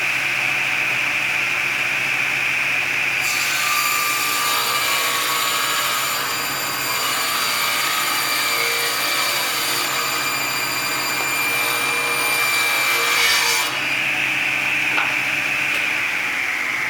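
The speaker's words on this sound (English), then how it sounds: "So I've got the table saw rip fence set up for a 2-inch cut" A table saw rips a 2-inch strip from 1/2-inch MDF, a loud sustained motor whine with a harsher cutting tone swelling through the middle as the blade passes through the board, then easing back to the idle hum.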